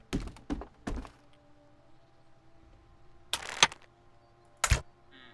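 Crossbow shots in the medieval building game Medieval Engineers: a few sharp thunking releases early on, then two louder, brighter snaps later, separated by quiet stretches over a low steady hum.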